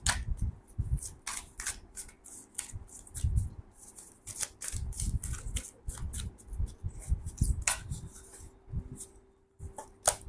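Tarot cards being shuffled and drawn sound as close, soft riffling flutters and sharp paper snaps, irregular and repeated over several seconds, quiet and with no talk.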